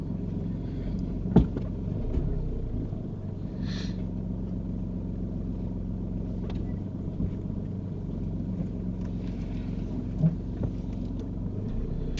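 Car engine idling low while the vehicle reverses into a parking space between two parked cars, a soft steady rumble throughout with a few small knocks and clicks.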